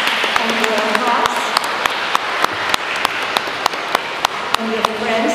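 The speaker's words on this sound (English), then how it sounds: "Give a round of applause for your moms and dads and your grandmas and your grandpas" A church congregation at a First Holy Communion service applauds, a steady crowd patter with sharp nearby claps standing out, while voices talk underneath throughout.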